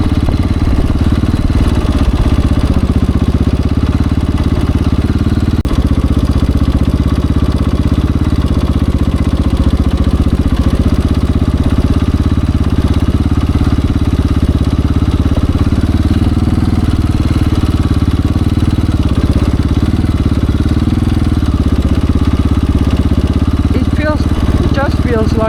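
A KTM 690 Enduro single-cylinder motorcycle drones loudly and steadily while ridden, a constant close engine roar with wind rush and little change in pitch; a voice speaks faintly underneath.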